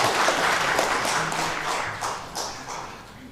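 Church congregation at an Easter Sunday service applauding together, a full wash of clapping that stays loud and then gradually thins and fades.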